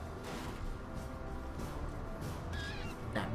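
A bird unit in the strategy game Age of Wonders 3 lets out harsh, crow-like caws and squawks, with a sharper cry near the end, over a low rumbling battle background.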